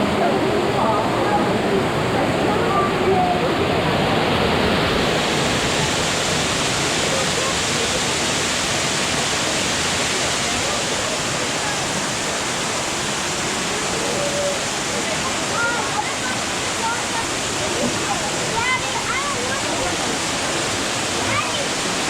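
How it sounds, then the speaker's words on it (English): A waterfall in the Watkins Glen State Park gorge roars as a loud, steady broadband rush of falling water. It fills the whole span, is heard up close, and continues without pause. "when you stand behind the waterfall, you can actually put your head into the water"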